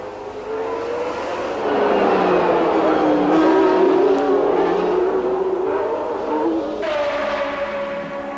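A high-pitched Formula 1 engine whines and shifts pitch as it revs and passes, loud and sustained, with a brief stutter near the end as the engine falters.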